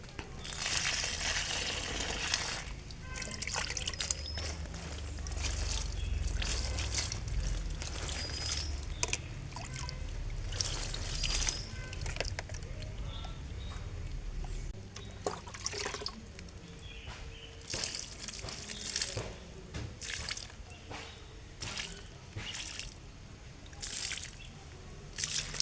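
Homemade liquid fertilizer is poured onto pepper plants, giving a soft, continuous trickle and splash with scattered drips, fairly close and quiet throughout.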